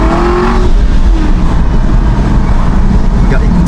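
An Aston Martin Vantage V8 drones loudly and steadily while driving on a road, its engine roar close and constant, with a person talking over it.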